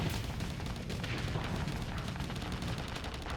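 Spaceship weapons firing in the space combat game Starsector, a dense, continuous barrage of gunfire-like bursts and booms with no breaks, loud throughout.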